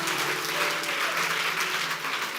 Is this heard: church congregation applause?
yes